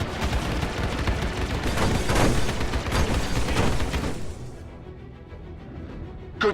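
Sustained gunfire hammers against a tower shield in the Star Citizen video game, a dense loud barrage of shots for several seconds that cuts off abruptly, leaving quiet with a faint final hit.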